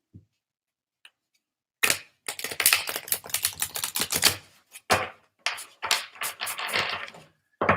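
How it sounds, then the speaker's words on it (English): Oracle cards are shuffled in quick bursts of crisp riffling and flicking, with irregular clustered clicks separated by brief pauses, close and clear with no voices. "Shuffle one more time."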